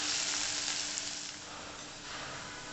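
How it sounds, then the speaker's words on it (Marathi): Onion fries in a pan with a bright, hissing sizzle that is steady and close, easing slightly in loudness partway through, with no talking. "आता कांदा छान फ्राय झाला आहे"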